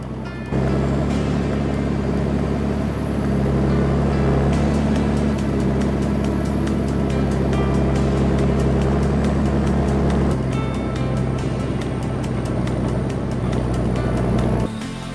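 A heavily loaded timber truck labouring up a steep hill, its deep diesel engine droning loud and continuous with steady low harmonics and rattling, no talk.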